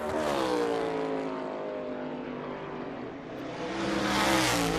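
A NASCAR Cup Series race car roars loudly through a qualifying lap at the 2022 championship race, its engine note climbing steadily in pitch, easing briefly, then surging again, with no talk over it.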